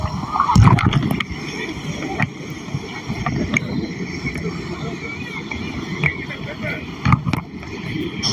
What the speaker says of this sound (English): I'm going to put my phone in the wave pool waves, and let's just see what happens.